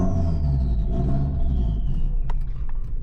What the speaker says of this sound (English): turbo noises sound freaking insane